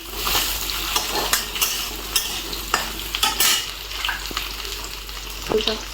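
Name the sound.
potatoes being sautéed in a pan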